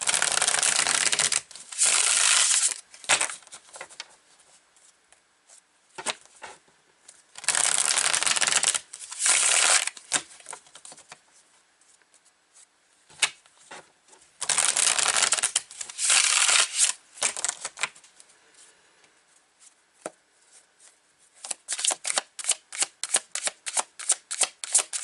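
A Field Tarot deck being shuffled by hand, repeated loud bursts of rapid riffling and sliding cards, close and dry, with short pauses between shuffles.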